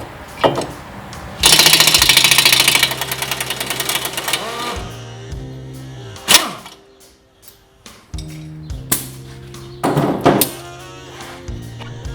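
Bolts come off the rear axle assembly of a Polaris RZR XP Turbo, set with blue Loctite. A loud, sustained mechanical rattling burst runs for a few seconds, followed by scattered clanks, thunks and ratcheting clicks with short quiet gaps.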